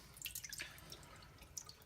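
Fermented tomato seed water is poured off slowly, making faint trickling and dripping with soft splashes in a quiet setting.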